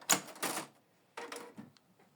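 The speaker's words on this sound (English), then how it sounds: "Close this cover." The cover of a Canon MG3650 printer is shut with a few close, crisp plastic clacks: two quick knocks, a pause, then another knock and a softer tap, with no voices.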